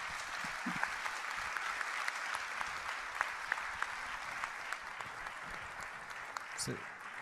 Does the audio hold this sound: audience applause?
yes